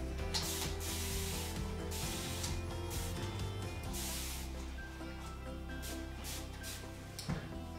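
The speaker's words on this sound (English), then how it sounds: "I like to spray water on the coat before I work on it" Steady hissing spray of water from a nearby bottle onto a dog's coat, continuous with slight pulses, no talking.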